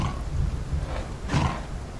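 Two low, rough growling calls from a juvenile Saurophaganax dinosaur in the game Path of Titans, the second a little louder, over a faint background hiss.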